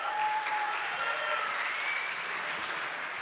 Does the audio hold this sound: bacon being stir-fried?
no